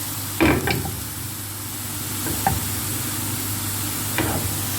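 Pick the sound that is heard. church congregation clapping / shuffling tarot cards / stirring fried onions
stirring fried onions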